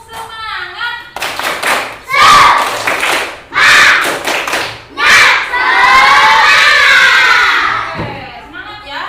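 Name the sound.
children doing a 'tepuk semangat' clapping cheer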